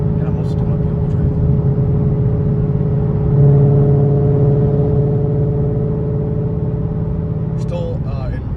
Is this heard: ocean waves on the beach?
no